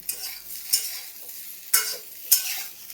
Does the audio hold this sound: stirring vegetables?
yes